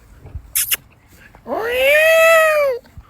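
A peacock's loud, drawn-out wailing call rises and holds for over a second, harmonically rich and close, with a few brief noises before it.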